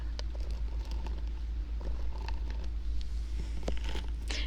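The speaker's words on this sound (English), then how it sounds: "this is the sound of a dryer sheet, because I have that dryer sheet taped around my mic." A dryer sheet taped around a microphone rubs against it, producing a close, steady crinkly rustle with scattered sharper crackles that runs continuously without pause.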